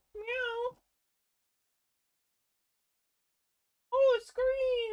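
A cat meows twice, close and clear: a short mew at the start, then after a long silence a longer, wavering meow near the end.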